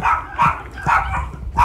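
Several dogs bark repeatedly near a house where a fire has drawn a crowd, loud sharp barks in quick bursts with no talking over them.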